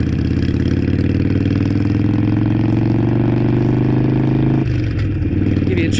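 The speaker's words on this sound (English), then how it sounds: "Give you a chance to listen to more of that Harley exhaust" A Harley-Davidson motorcycle exhaust rumbles loudly and steadily up close, a deep continuous engine note that shifts as the bike decelerates toward the end.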